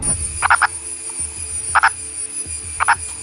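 Purple frog, a burrowing species, giving three loud, close croaks in even spacing, each a short doubled call, with no talk.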